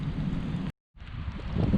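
Steady, dense hiss of heavy rain pouring down, broken by a brief moment of silence before the downpour resumes.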